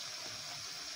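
A glass of water poured into a pan of spinach and liver curry, a brief continuous splashing gush at moderate level with no talk over it.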